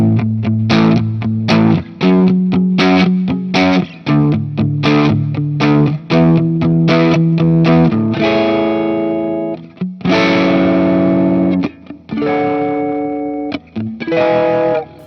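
An electric guitar strums a series of rich jazz chords through distortion and chorus effects, each chord ringing out before the next, with brief pauses between phrases.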